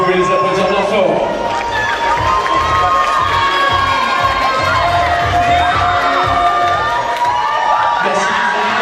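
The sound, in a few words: audience applauding and cheering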